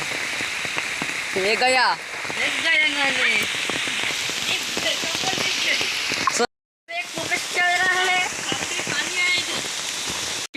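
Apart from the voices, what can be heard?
rain falling during outdoor vlog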